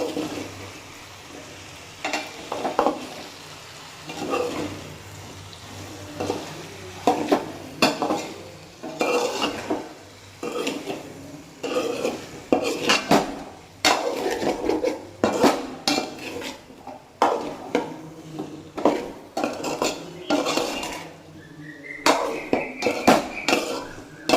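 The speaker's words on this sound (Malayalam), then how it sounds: "അതിലേക്ക് കുറച്ച് ഉപ്പും മഞ്ഞളും മുളകും ഇട്ട് നന്നായി ഇളക്കുക." Potatoes stirred in a pan with salt, turmeric and chili, a spoon scraping and clanking against the metal in quick irregular strokes, close and loud, without voices.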